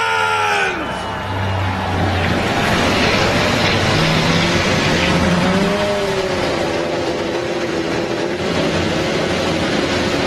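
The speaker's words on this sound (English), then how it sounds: "Drivers, get ready to GoPro and start your engines!" IndyCar race car engines fire up and rev together at the Sonoma raceway, a loud, sustained roar with rising and falling pitches over crowd noise.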